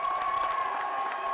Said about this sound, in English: And you can hear the crowd. They're starting to light it up right now.